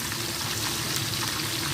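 A whole chicken chargha fries in hot oil, giving a steady, dense sizzle and crackle that stays close and even throughout with no talk over it.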